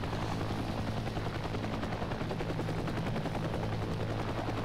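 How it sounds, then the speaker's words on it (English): A CH-53 Stallion helicopter in the combat game Heliborne drones with a steady, continuous rotor and engine roar, dense and unbroken throughout. "that CH-53 is going to land first"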